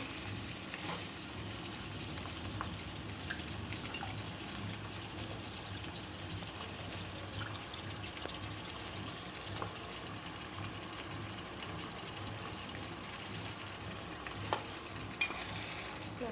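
Washed chicken pieces sizzle and fry in a pan at home, a steady close crackle with faint stirring scrapes and occasional sharper pops, with no talking.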